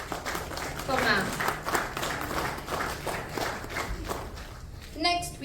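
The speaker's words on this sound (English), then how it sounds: "Can you give a huge round of applause for ma'am?" Awards event audience giving a round of applause, a broad steady clatter of many hands at moderate distance, with voices and an announcer audible over it.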